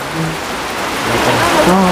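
Heavy rain falls steadily in a dense, hissing wash, loud and close, with faint voices briefly audible beneath it.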